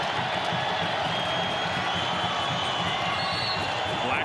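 A crowd at a men's college basketball game between New Mexico and Nevada roars in a steady, dense wash of cheering and noise during a halftime race, loud and continuous without a break.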